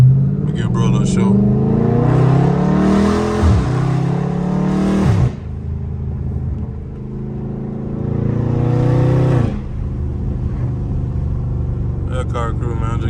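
A loud Dodge Charger Scat Pack revs up in a few rising bursts that drop back to a deep rumble, heard up close on neighborhood streets with people talking over and between the pulls.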